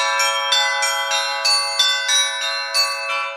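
Church bells ring out at Saint Sophia Cathedral during a Christian festival, a steady pattern of repeated rich metallic strikes with long overlapping resonance, loud and close with no voices.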